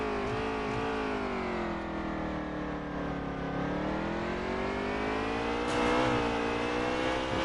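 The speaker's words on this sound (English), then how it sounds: "Watch and just check out this braking as he pulls it in" A race car in the Veedverks Cup Outlaw Series at Sonoma brakes hard into the hairpin, its loud engine drone sliding down in pitch, then rising again as it drives out.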